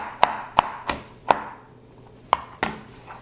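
Red onion being roughly chopped into thin slices with a knife on a board, six sharp separate chops with uneven gaps between them, close and clear with no talking.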